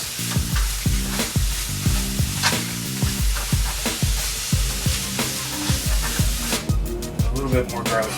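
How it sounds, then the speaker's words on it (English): Ground pork frying with vegetables for lumpia, a constant sizzle broken by rhythmic, closely spaced scraping strokes of a spatula against the pan, loud and near. "So now I'm going to add the pork"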